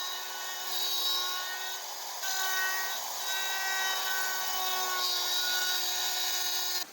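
A jig-guided tool cuts a dado across wood for blanket ladder rungs, giving a steady, close, high-pitched whine that holds for about seven seconds with small shifts in pitch and no talk.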